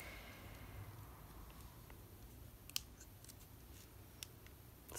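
Scissors snipping through washi tape and a sticker in a quiet room, with a few faint, brief cuts spaced apart against low background hiss.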